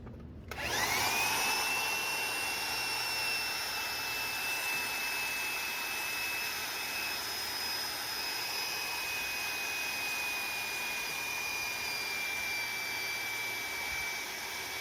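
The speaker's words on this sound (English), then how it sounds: "now we're going to use the threader" A power pipe threader runs steadily while threading the ends of gas pipe on a stand, giving a continuous motor whine with a thin high tone. It stays moderately loud for about fourteen seconds after a quick start, with no voices.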